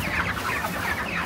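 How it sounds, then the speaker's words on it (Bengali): A crowd of large 1.5–2 kg poultry-farm broiler chickens, continuous overlapping clucks and murmuring calls, close and fairly loud, with no voices. "এখানে অনেকগুলো মুরগি আছে দেখুন"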